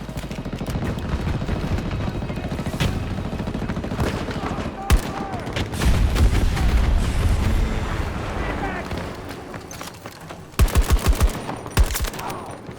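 M5A3 rifle with short barrel and close-range rounds firing in a video game, several rapid bursts and sharp shots over in-game noise, with some voices and explosions mixed in.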